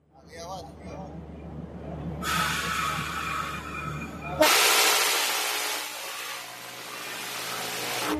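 A train horn sounds amid crowd noise and talk at Jamnagar, then a loud burst of cheering, clapping and whistle-like hiss as the Humsafar passenger train to Bandra sets off.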